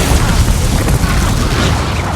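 Descendo spell impact in Hogwarts Legacy combat: a loud, sustained booming slam with a thick low rumble that fills the whole short moment.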